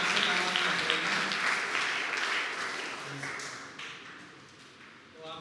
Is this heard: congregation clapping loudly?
yes